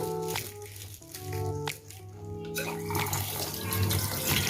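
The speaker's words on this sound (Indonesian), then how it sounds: "Kita cuci semuanya sampai bersih." Tofu being washed under a running kitchen tap, water pouring steadily into a sink with splashing and light handling sounds, close and continuous.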